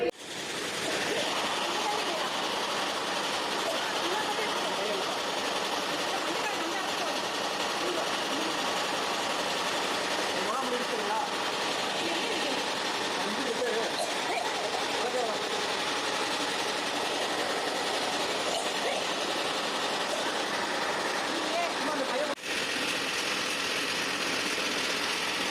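A flour mill machine grinding garam masala spices runs as a steady, loud, continuous whirring drone throughout, with no pauses.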